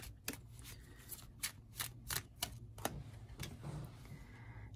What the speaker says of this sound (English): Let me pick a card for love.